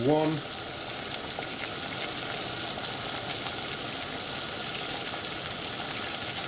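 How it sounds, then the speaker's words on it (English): A pot of water at a rolling boil gives a steady, even bubbling hiss, fairly close and continuous, after a brief tonal beep at the very start. "we're now at a rolling boil"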